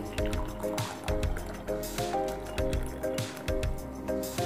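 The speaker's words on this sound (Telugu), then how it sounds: "ఒక గ్లాస్ తీసుకొని ఇందులో హాట్ వాటర్ వేసుకోవాలి" Hot water poured into a glass, a continuous liquid stream that stays fairly steady over several seconds, set against a constant tonal musical background.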